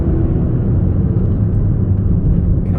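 A Toyota GR Corolla GTS accelerates out of a corner, its engine a loud, steady low rumble with heavy road noise throughout, heard from inside the cabin.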